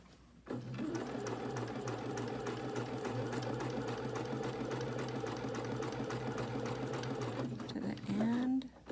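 A sewing machine stitches a fabric face mask, its motor humming in a steady, fast, continuous needle rhythm for most of the stretch before stopping near the end, close and fairly loud.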